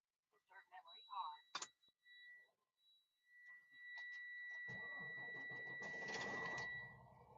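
A semi truck engine cranks and catches after cutting out, then settles into a steady rumbling idle, preceded by someone speaking and a few electronic chirps and beeps.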